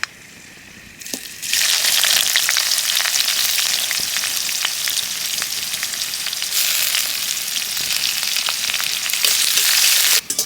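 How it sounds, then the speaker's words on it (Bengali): Chopped onions hit hot oil with bay leaves, dried chillies, whole garam masala and cumin, a loud sizzle erupting after a quieter second and staying dense and continuous, with a brief dip partway through, at a village cooking fire. "পেঁয়াজটা আমি লাল লাল করে ভেজে নেব"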